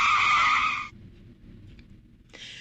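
A car brake skid sound effect: a loud, close tire screech holds for almost a second, then cuts to near silence, with a second short screech starting near the end.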